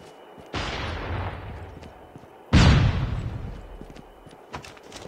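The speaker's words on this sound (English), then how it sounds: "Man, AK-47 does some heavy damage, man" Two heavy AK-47 shots boom in a video-game battle, about two seconds apart, each a loud sharp crack trailing into a long rumbling echo, with no talking.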